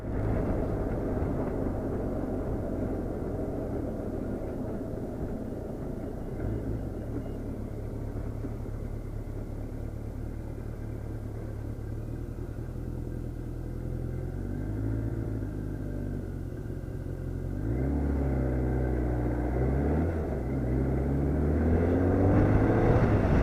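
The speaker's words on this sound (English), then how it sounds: "got this rumbling in the engine" A BMW K1200RS motorcycle engine rumbles steadily underneath, a low continuous drone that swells louder and deepens near the end as the bike pulls harder, with no voices.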